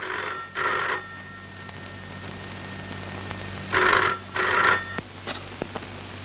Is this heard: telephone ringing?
yes